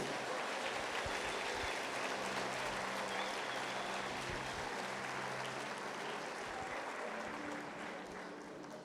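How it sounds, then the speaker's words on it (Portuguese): A church congregation applauds steadily and loudly throughout, a dense wash of many hands clapping that fades slightly toward the end. "Dá para aplaudir ao Senhor por isso?"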